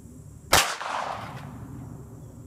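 A single loud 9mm Makarov pistol round fired at a target, one sharp close crack followed by a short decaying echo, with nothing else around it.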